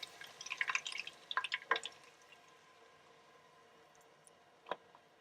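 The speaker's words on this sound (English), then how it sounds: "Then I'm gonna add the heavy whipping cream." Heavy whipping cream poured from a pint container into a pan gives a few soft, quick glugs and splashes in the first two seconds, then quiet, then one last faint drip.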